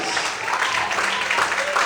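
A church congregation claps together during an evening worship service, producing a dense, steady wash of applause that fills the room, with voices mixed in.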